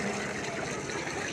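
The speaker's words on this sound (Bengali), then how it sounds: "মন্দিরে ঢুকতে গেলে এই যে জলে পাটা ধুয়ে নিলাম।" Water splashes and gushes as feet are rinsed at a washing point before entering a temple, a steady close wash lasting the whole moment with no voices.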